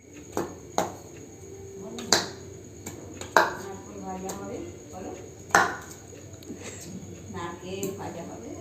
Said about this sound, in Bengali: কেটে দাও এখন কাটাকাটি দেখো